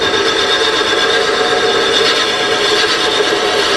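A woodturning gouge cuts wood spinning on a lathe, producing a continuous close hiss and scraping rush of the cut, steady and fairly loud throughout.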